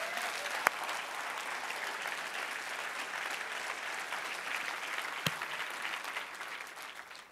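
A church congregation applauding the Lord together, steady dense clapping that fills the whole stretch at moderate level, with a couple of sharper isolated claps standing out.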